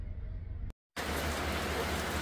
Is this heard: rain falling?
yes